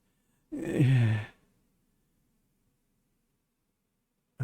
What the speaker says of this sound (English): breathing is too loud. There's no reason for it to be this ragged